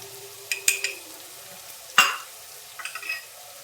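Pav bhaji with red chili powder, pav bhaji masala, butter and coriander being stirred in a pan, a few sharp scraping clinks of the spatula over a faint, quiet sizzle.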